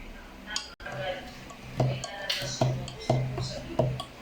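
A spoon stirs mango float ingredients in a bowl, giving soft clinks at a steady pace of about one every half-second, close by, over a faint room background.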